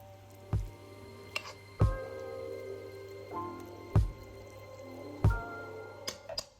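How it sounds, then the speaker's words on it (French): Eggplant halves being stuffed with filling, heard as five soft, wet squelching dabs at a roughly even pace, close and fairly quiet against a faint background hum. "remplissez les moitiés d'aubergines avec la farce que nous venons à peine d'achever"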